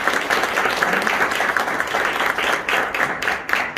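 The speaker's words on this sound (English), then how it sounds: "Let's give them all a big round of applause" Audience applause fills the room, dense and sustained clapping at a steady loud level throughout, with a few louder individual claps near the end.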